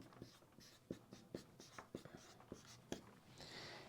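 Handwriting with a pen, heard as quiet, close scratching strokes and small taps in an irregular rhythm against a soft, steady background.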